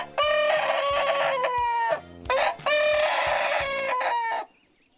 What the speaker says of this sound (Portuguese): Os moradores estão em dúvidas se é galo ou galinha.